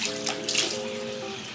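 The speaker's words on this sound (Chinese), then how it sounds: "像汤汁一样冲水。" Tap water runs steadily while makeup remover is rinsed off a face at a sink, a close splashing stream with brief louder gushes as hands move through it.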